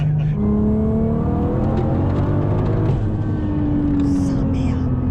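1200 hp Volkswagen Golf R32 accelerating hard with all four wheels spinning, a loud engine climbing steeply in pitch through the gears from inside the car, with people talking over it.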